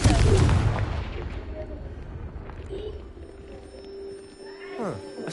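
A Confringo blasting spell in Hogwarts Legacy goes off with a heavy boom at the start, then a rumbling decay fades over a few seconds, followed by quieter game ambience and short tonal effects.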